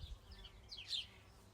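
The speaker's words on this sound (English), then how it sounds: "Getting buzzed by a bee, Mouse." A bee buzzes faintly past a mouse in a garden, a brief wavering hum that rises and fades within a second. Quiet outdoor ambience surrounds it.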